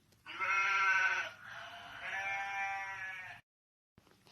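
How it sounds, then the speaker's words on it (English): A sheep bleats in two long, wavering calls, loud and close, followed by a short silence and the start of another sound. "This is sheep."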